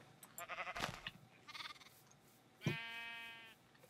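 Sheep in a Minecraft game bleat in a few short bursts, followed by one longer, clear bleat near the end, close and fairly loud over a quiet background.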